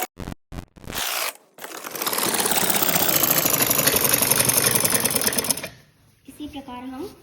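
A sewing machine runs fast and loud while stitching the side seam of a kurti, one continuous whirring burst after a few sharp clicks and handling taps, then stopping. A voice speaks over the handling at the end.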